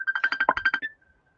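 A mobile phone rings close by with a rapid burst of about ten bright electronic pulses, then stops and leaves a faint fading tone.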